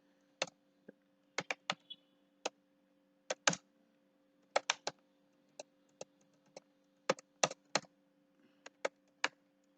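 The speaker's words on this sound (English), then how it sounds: "Sorry, I am typing a list of string here." Typing on a computer keyboard: sparse, crisp key clicks in irregular bursts and singles, close and fairly quiet over a faint steady hum.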